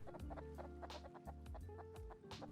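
Several chickens cluck and cackle in a steady, busy chorus, fairly quiet with a soft background hum, in the video game Rust.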